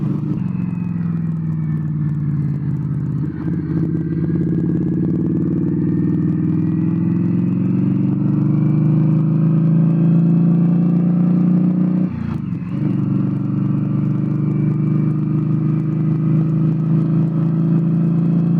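Steady engine drone of a motorcycle riding along a road, loud and close throughout with rising and falling pitch as the rider shifts and accelerates, plus a couple of brief bumps.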